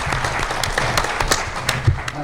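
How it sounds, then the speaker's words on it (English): Audience applause at a criminal justice policy forum, a steady wash of clapping lasting the whole moment with faint voices mixed in. "Give Brother Anderson a very big applause."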